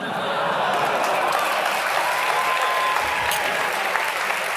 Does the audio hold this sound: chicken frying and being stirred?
no